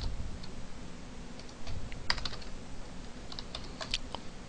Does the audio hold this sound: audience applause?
no